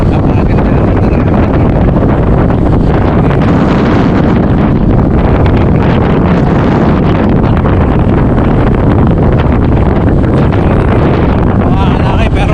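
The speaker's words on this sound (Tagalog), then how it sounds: "Mga kalaki pero sobrang lakas ng hangin kaya" Strong wind blows across open rice paddies, a loud, steady roar buffeting the microphone without pause, with a voice faintly present underneath.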